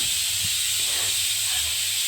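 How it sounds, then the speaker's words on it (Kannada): A pressure cooker steaming idli gives off a loud, steady hiss of escaping steam that runs unbroken through the whole short stretch, with no voices over it. "ಕುಕ್ಕರ್ ಕೂಗ್ತಾ ಇದೆ"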